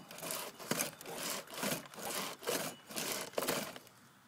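A Stihl MS660 chainsaw cuts into wood in repeated strokes, a loud rasping bite that surges and eases in a regular rhythm about every half second, heard close up with no talking.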